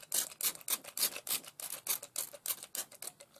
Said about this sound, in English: What I'm actually going to do is spray with water first.